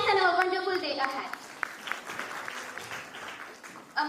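Audience clapping and cheering at the grand finale of a storytelling competition, a loud burst of applause at the start that fades into scattered claps, with a sharp clap near the end.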